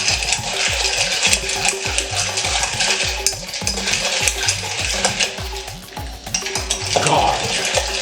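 Mojito ingredients churned in a glass with a spoon or muddler, a quick rhythmic series of clinking, swishing strokes close by, fairly regular in tempo.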